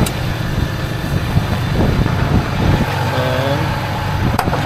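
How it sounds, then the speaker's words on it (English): A Paccar MX13 diesel truck engine, pushing coolant and showing watered soot, runs at idle up close with a loud, steady low rumble, irregular knocks and a brief squeal near the end. "this is the MX engine"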